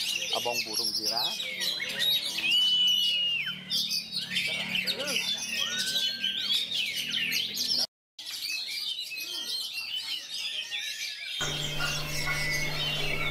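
Oriental magpie-robin (kacer) sings a varied, busy run of whistles, chirps and trills, close and loud, with a brief dropout near the middle and a steady low hum in the last seconds.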